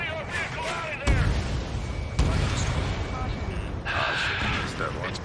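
Anti-aircraft fire in the Ace Combat 7 video game, a dense roar of rapid booms and crackling bursts with sharp blasts near one and two seconds, over a steady rumbling game soundtrack.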